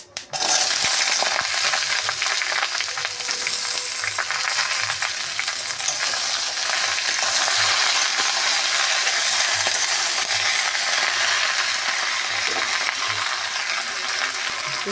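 Vegetables fry in a pan with dried red chilli and panch phoron for a Bengali puishak dish, a loud, steady hiss and sizzle that runs unbroken and close throughout.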